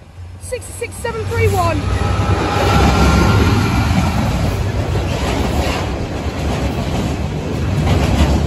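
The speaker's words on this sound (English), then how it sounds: "freight train's approaching" A freight train rumbles past close by at the Lincoln High Street level crossing, a loud sustained roar with rhythmic rattling of wagons, and a brief voice near the start.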